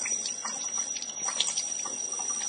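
Produce being washed for homemade nachos under a running kitchen tap, a steady close splashing and trickling of water with small spattering bursts throughout, no voices.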